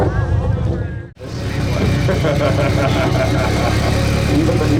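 Subaru boxer-engined car idling at a BoxerFest car show exhaust competition, a deep, steady exhaust rumble that runs loud throughout after a brief dropout near the start, with crowd chatter mixed in.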